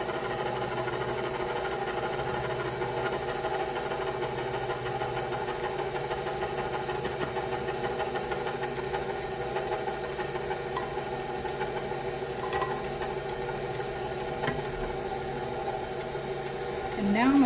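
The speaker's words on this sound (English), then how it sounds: "I'm going to turn the mixer on stir and just let it fall in a little bit at a time." Electric mixer running on its low stir setting while flour is added to chocolate zucchini bread batter, a steady droning motor hum with a buzzing whine that holds evenly throughout.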